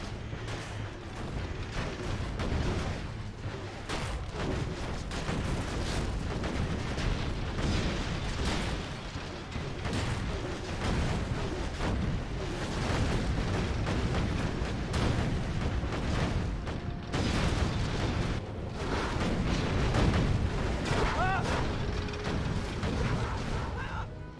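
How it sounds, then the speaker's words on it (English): An artillery strike rumbles through a video game replay, with a dense, continuous barrage of booms and bursts and heavy low-end rumble lasting the whole stretch, loud and unbroken. "Just going to quickly watch the replay so we can get to that artillery strike."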